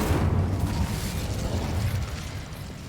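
An Incendio fire spell cast in Hogwarts Legacy lets out a rumbling, whooshing blast that fills the moment and slowly fades, with no voices over it.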